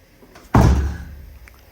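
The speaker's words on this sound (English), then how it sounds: "I didn't need to slam it like that." A Dodge Ram truck door slams shut once with a sharp, loud, close thump that quickly fades into a short resonant tail.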